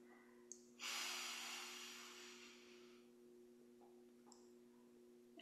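A single long, breathy exhale, close and soft, fading out slowly over a couple of seconds against a quiet steady hum, with faint small clicks around it.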